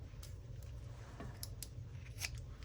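Scissors snip through tape while a handmade journal is being bound, several sharp, close cuts spaced irregularly over a quiet room.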